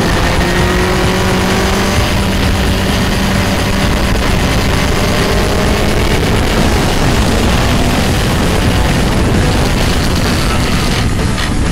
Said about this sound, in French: comme un gros naze, je loupe une vitesse. Je me retrouve entre deux vitesses. Et vas-y que ça rétrograde et que ça repartit